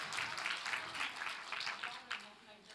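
Scattered hand clapping from a small audience at a talk, loose rhythmic claps that thin out and fade toward the end, moderately quiet and near.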